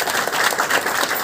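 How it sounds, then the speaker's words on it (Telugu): Dense, steady applause from a large audience at a Vestige 19-year anniversary meeting in Secunderabad, loud and continuous with no pauses. "సో ఒకసారి గట్టిగా బిగ్ రౌండ్ అప్లాజ్ అండి."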